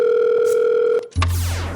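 Steady telephone dial tone, loud and close, cutting off abruptly after about a second before a short burst of line clicks and a new tone starts.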